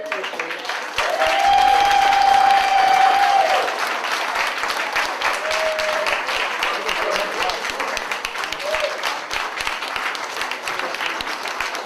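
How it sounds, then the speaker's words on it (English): A crowd at an awards event gives a sustained round of applause for an honoree, steady and full for about twelve seconds. A tonal sound cuts in briefly near the start, and faint voices sit under the clapping. "Give her a nice round of applause"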